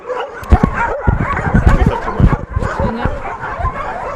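Several dogs bark and yip in short, overlapping bursts, with a few whimpers mixed in, at a dog rehoming shelter; the barking is close and fairly loud.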